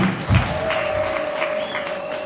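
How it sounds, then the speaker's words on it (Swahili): An audience at a Chama cha Mapinduzi political rally in Tanzania breaks into applause: a burst of clapping that swells and then holds steady over a sustained tone from the sound system. "Hebu tupige makofi kwa Mama Samia"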